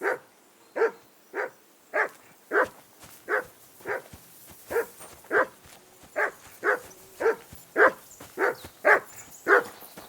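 A dog in Kingdom Come Deliverance 2 barks steadily and insistently, around sixteen evenly spaced barks, clear and moderately close, with no talk over them.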